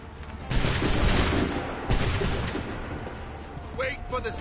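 Musket volleys in Assassin's Creed III, two loud ragged fusillades of massed shots, each rolling on and fading, followed by a shouted voice near the end.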